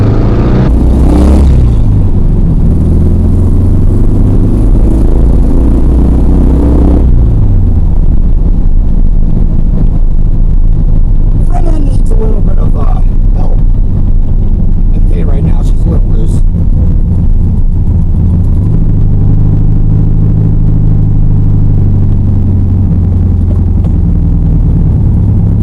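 A 1971 VW Super Beetle air-cooled engine pulls away and accelerates while driving, a steady low drone rising and shifting through the run with wind buffeting, fairly loud throughout, with voices talking over it.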